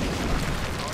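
A rocket bursts in XCOM, a loud, dense, rumbling blast that fills the whole second with no pauses.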